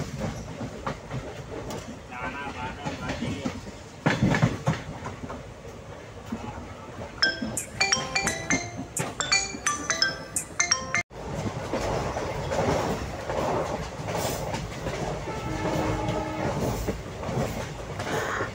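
A passenger train runs through hilly forest in Assam with a continuous rumble and clickety-clack of the wheels. Metallic clinks and squeals come through in the middle, and a voice speaks quietly now and then.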